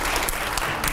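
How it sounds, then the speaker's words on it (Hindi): Audience applause in a televised interview hall, a brief dense burst of clapping filling the whole moment, loud and close. "जोरदार तालियां हो यहां पर"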